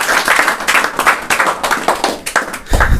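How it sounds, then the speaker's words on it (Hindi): An audience claps loudly to welcome Deepesh Kumar, a 200 m gold-medal sprinter, and his father, a retired soldier. The applause is dense and sustained, with uneven swells of many hands at a ceremony. "जोरदार ताली से स्वागत करें"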